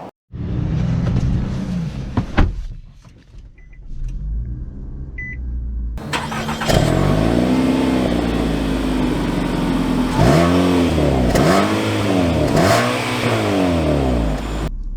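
A 2023 Nissan Altima SR AWD starting and driving off, heard from inside: brief chimes over a quiet idle, then the engine swells into repeated rising and falling acceleration sweeps, loud and close.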